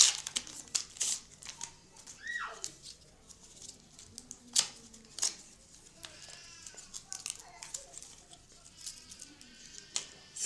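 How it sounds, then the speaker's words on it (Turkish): Surgical suture packet being torn open and handled for skin stitching, a series of sharp crinkly tearing and rustling bursts, close and irregular. "Öncelikle sütür, sütürümüzü açıyoruz."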